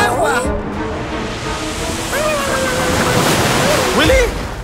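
Water splashes and sloshes during a dog's bath with a sponge, a steady wet wash rising in brief surges while an excited voice chirps briefly over it.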